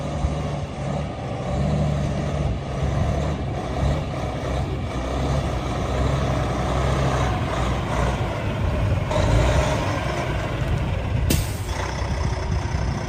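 A 2015 Kenworth T800 day cab heavy truck rumbles steadily as it drives around a yard, its diesel engine droning loud and close throughout, with a brief hiss near the end.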